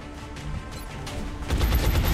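Pistol shots in the XCOM video game, a short burst of gunfire that grows louder toward the end, with no talking.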